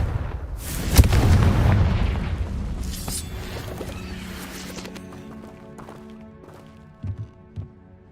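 A Confringo fire spell bursts in the video game Hogwarts Legacy as a loud, booming explosion that rumbles and slowly fades, followed later by a few faint thuds.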